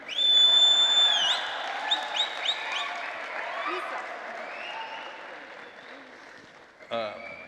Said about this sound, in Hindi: ये पीछे वाले ज़्यादा ताली मारते हैं